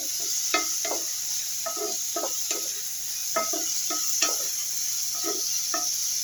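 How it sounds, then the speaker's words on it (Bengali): Bitter gourd and potato are stirred in a pan, a spatula scraping and knocking against the metal in short, irregular strokes over a faint, steady background hiss. "ঢাকনাটা খুলে নাড়াচাড়া করে দিলাম"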